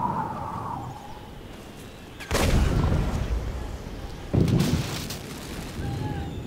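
Bombs drop and guns fire in the Toy Soldiers video game: two heavy booming blasts land a couple of seconds apart over a rumbling bed of battle noise, loud and close, with no one talking.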